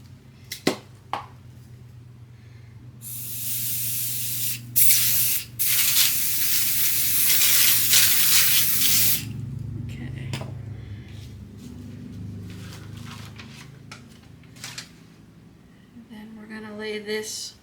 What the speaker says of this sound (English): I use basting spray